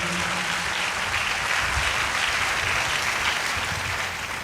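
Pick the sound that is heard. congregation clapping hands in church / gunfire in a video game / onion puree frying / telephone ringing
congregation clapping hands in church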